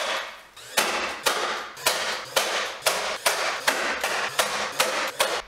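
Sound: brad nailer nailing red oak face frame

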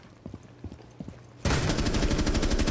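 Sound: gunfire in the video game Rainbow Six Siege

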